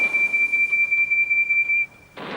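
A steam tank engine's whistle blown loudly in a quarry: a single sustained shrill tone held for nearly two seconds, then cut off sharply and followed by a burst of hissing steam.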